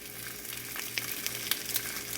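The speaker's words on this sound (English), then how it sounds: "I have this cooking on low, you can see, and you can hear it sizzling." Steady, soft sizzling of food frying on low heat in a smoking hot cast iron pan, a continuous crackly hiss with a few brighter pops, close by.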